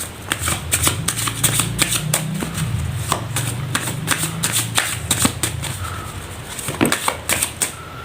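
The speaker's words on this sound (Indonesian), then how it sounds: "Langsung saja saya shuffle kartunya." Tarot cards being shuffled by hand, a continuous run of rapid flicking and riffling snaps, close and steady throughout with no talk.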